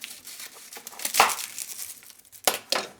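Papery skin crinkling and tearing as it is peeled off a whole head of garlic, with soft rustles and a few sharper crackles close by.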